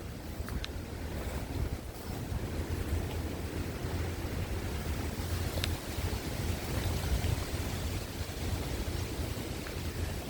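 Steady, heavy wind roars and buffets the microphone throughout, with a constant low rumble and no voices.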